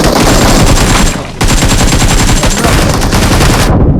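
Dense automatic gunfire in a video game, loud and continuous, with a brief drop just over a second in, then sustained rapid fire that cuts off near the end.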